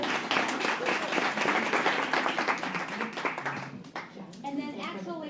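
Audience applause at a monthly membership meeting in Orland Park, welcoming library staff presenters: dense, steady clapping fills the room, thinning out near the end as a voice begins speaking.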